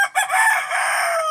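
A rooster crows loudly and close by, one sustained call lasting over a second with no one speaking.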